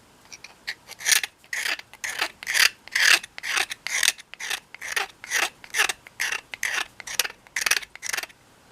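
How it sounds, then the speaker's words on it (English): Pocket knife blade scraping old varnish off the wooden handle of a Millers Falls No. 59 ratchet screwdriver, a loud close rasping stroke repeated rhythmically about twice per second, with no talk. "I like to start with scraping the old finish off with a pocket knife"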